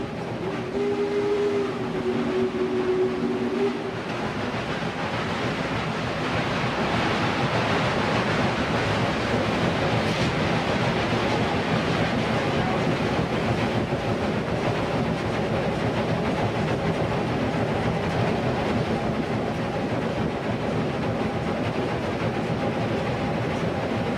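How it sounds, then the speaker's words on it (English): A Union Pacific Challenger steam locomotive picks up speed with its throttle substantially open, a dense, continuous roar of rushing steam and rolling machinery, loud and sustained. A brief tonal whistle-like note sounds at the start. "As the engine picks up speed, Mr. Lee changes the setting on the Johnson"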